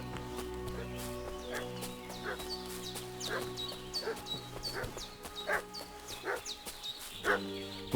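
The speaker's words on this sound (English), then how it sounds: "What's that dog making such a fuss about?" Dog barking in the medieval game Kingdom Come: Deliverance II, a run of sharp barks spread across the clip at moderate distance, set against a steady tonal music bed with hoof-like clip-clop sounds mixed in.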